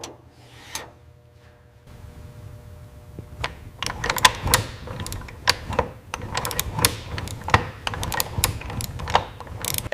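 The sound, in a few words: ratchet tightening bolts on Land Cruiser FJ40 engine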